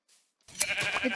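A sheep bleats in Minecraft as it is sheared, a short game-style bleat that follows a brief pause and rings out clearly and fairly loud, with no talk over it.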